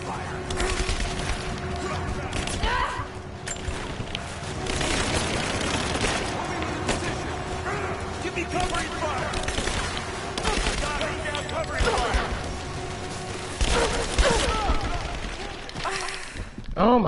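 Rise of the Tomb Raider gameplay fills with dense gunfire: rapid bursts and volleys crackling almost continuously, loud and close, with game voices speaking in between.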